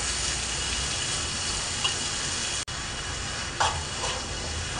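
Pork, kimchi, tuna and onion stir-fry in a pan with a steady, loud, hissing sizzle that barely changes. A couple of soft clicks from stirring break through, and nobody speaks.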